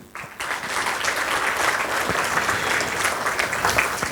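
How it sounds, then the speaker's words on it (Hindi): Applause from an audience at a student coaching session, dense clapping that starts abruptly and carries on steadily at a moderate level. "a huge round of applause for all of you"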